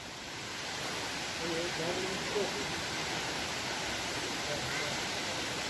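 Steady broadband roar of a waterfall at Maşukiye in Sakarya, heard close and continuous with a motorcycle parked beneath it, faint indistinct sounds briefly under the rush.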